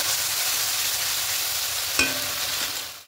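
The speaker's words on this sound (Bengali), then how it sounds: "মশলা দিয়ে একটু ভালো করে কষিয়ে নেব।" Spices sautéed in a pan, giving a continuous close, hissing sizzle with a single utensil knock against the pan near the end.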